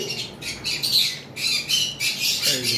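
A blue-beaked conure gives a series of harsh, shrill squawks in quick bursts, close and loud, with short pauses between calls.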